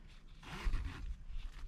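Zipper on a budget two-man dome tent, fitted without pullers, drawn along in one steady close rasping pass, fairly quiet with no talking.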